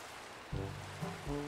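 Steady rain falls in the Minecraft video game as a constant hiss of broadband patter, with a few faint low tonal blips from the game layered over it and no voices.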